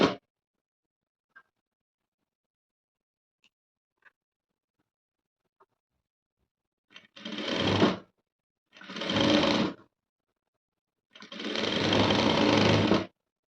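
A sewing machine stitches a Chinese-collar blouse in three separate bursts, each running steadily for one to two seconds with short pauses between, close and clear after a quiet start with only faint handling clicks.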